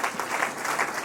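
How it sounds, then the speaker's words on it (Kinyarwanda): A church congregation applauds during a sermon, a steady burst of clapping from many hands filling the room for about a second. "Komera Imana amashyi mu izina rya Yesu."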